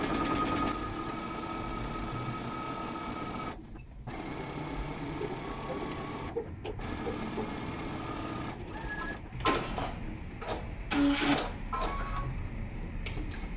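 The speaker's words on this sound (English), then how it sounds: "continue stitching 5/8 of an inch all the way down" A sewing machine stitches a pants seam in a rapid, steady mechanical whir, pausing briefly a couple of times before resuming, close and moderately quiet.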